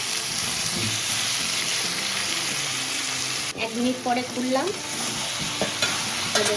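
Loud, continuous sizzling of spices and salt frying in a pan for a chitol fish curry, close up, with someone speaking briefly over it partway through.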